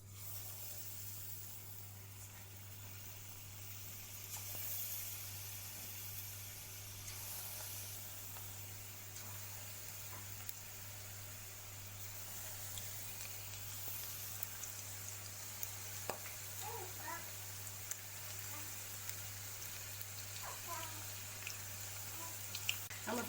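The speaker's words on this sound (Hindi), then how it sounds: "हमारा तेल गरम है, उसमें हम ये प्रॉन्स डालेंगे एक एक करके।" Prawns dropped one by one into hot oil for crispy golden frying, giving a faint, steady sizzle over a constant low hum with occasional small pops, quiet and without talk.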